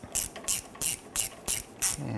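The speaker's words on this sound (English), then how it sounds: "I'll go ahead and tighten down the clamp." A ratchet tightens a radiator hose clamp on a 2006-2010 Hummer H3 3.7L, giving six evenly spaced, crisp clicking strokes close by with nothing else around them.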